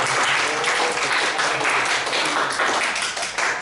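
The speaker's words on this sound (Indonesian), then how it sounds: "tepuk tangan." A high school class in Indonesia gives a dense round of applause, an even, continuous clatter of many hands clapping close by for a few seconds.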